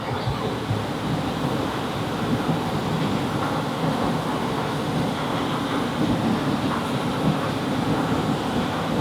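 An automatic-transmission car runs on a dyno, giving a steady, loud, broadband engine and roller roar with no clear breaks throughout.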